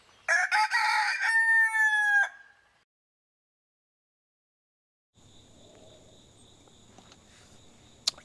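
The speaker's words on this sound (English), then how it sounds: "Just let the chickens out." A rooster crows loudly and close at the start of a morning farmyard scene as chickens are let out, followed by silence and then faint insect-like chirping with a steady high tone.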